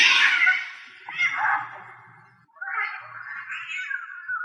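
Cats meow and screech in loud, drawn-out wails, one long yowl fading before a second rising cry, with no voices over them.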